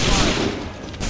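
A musket volley from soldiers in Assassin's Creed 3 Remastered, a loud crackling burst of many near-simultaneous shots that thins out briefly before another sharp report near the end.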